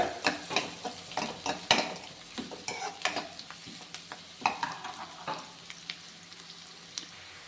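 Pav bhaji ingredients fry in a pan, a close crackling sizzle under frequent scraping and clattering of a spoon stirring against the metal, busy and fairly loud with no voices.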